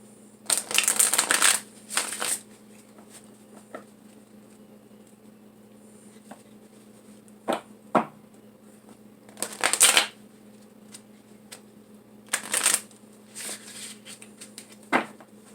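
A deck of tarot reading cards being shuffled in bursts, with a long riffle at the start, another burst near the middle and short patters in between, close and fairly loud over a quiet room hum.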